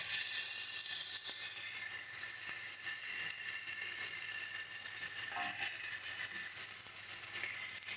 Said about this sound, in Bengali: এবার দেবো হচ্ছে কাঁচা লঙ্কা বাটা, খুব অল্প পরিমাণে আদা বাটা দিয়ে ভালো করে মশলাগুলোকে একটু নাড়িয়ে নেব।